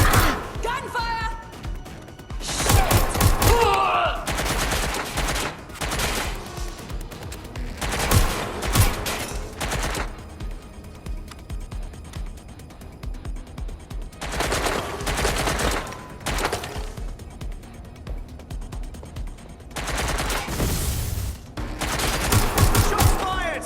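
Bursts of gunfire in the video game Watch Dogs Legion, several loud volleys of rapid shots separated by short gaps, with voices talking between and under the firing.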